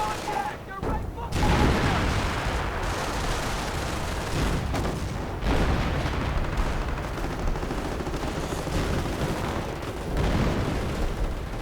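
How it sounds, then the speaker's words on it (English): Howitzer barrage from a Hummel self-propelled gun in a World War II strategy video game, a dense rolling roar of artillery booms and gunfire layered continuously with a few louder surges. "And another howitzer barrage from the Hummel."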